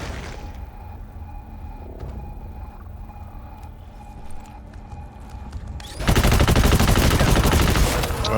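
Rapid bursts of automatic gunfire from the co-op shooter GTFO erupt loudly for the final few seconds, following a quieter stretch of low ambient game sound.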